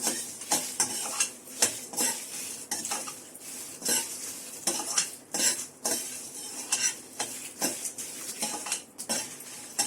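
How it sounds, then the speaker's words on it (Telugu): Red chilies fry in a kadai as a spoon stirs and scrapes the metal pan, making repeated close clatters over a faint sizzle, with no voices. "అదే కళాయిలో కొంచెం మిరపకాయలు వేసేసుకొని లైట్గా వేసేసుకోండి."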